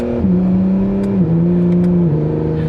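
Acura NSX Type-S engine drops through stepped revs as the paddle-shifted dual-clutch gearbox downshifts from ninth to third, each shift a sudden jump in the loud, close steady engine tone, with no talking.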